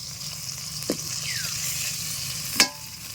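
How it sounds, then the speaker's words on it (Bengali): Small fish frying until red and crisp in hot oil in a pan, cooked outdoors in a garden; a low steady sizzle with two brief sharp crackles or spatters, close by and without talk. "দেখতে পাচ্ছ পুরো লাল লাল করে মাছ ভাজা"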